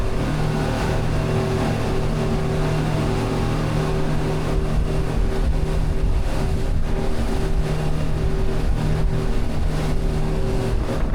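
Speedboat powered by three 250-horsepower outboard motors totalling 750 horsepower, its engines droning steadily and loudly throughout with a constant hum, no talk over it.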